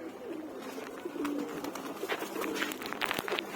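Several pigeons coo in low, rolling calls close by, overlapping against a busy background of outdoor rustle and scattered clicks, with no voices.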